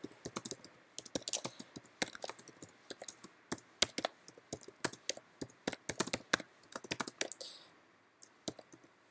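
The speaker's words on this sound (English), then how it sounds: "I'm typing with one hand" A computer keyboard is typed on with one hand, giving irregular bursts of sharp, close clicks separated by short pauses, then falling quiet near the end.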